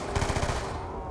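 An RPD light machine gun fires a short rapid burst in a Call of Duty zombies match on Nuketown, loud and close, the rounds rattling off in a fast even rhythm before fading out.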